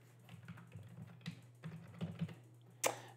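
Typing on a computer keyboard, a quick run of soft, close keystrokes in irregular bursts over a low steady hum, ending with one sharper key press.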